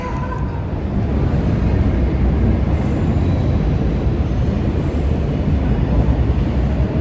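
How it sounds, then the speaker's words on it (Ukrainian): At a metro station a train pulls in, a steady loud rumble and roar of rolling wheels that fills the whole stretch without letting up. "Станція метро."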